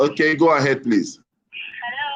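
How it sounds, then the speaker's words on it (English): A pet cat cries in the background of a phone call, its thin meowing carried faintly over the line just after a person speaks. "You can hear my cat crying at the bottom."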